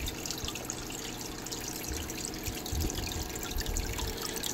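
A small waterfall trickles into an aquarium garden tank, a steady soft splashing and gurgling of water that runs unbroken and fairly quiet at close range.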